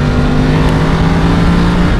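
A BMW F850 GS mid-size adventure motorcycle engine runs loud and close, its steady droning hum rising slightly in pitch as the throttle is opened, continuous throughout with no voices.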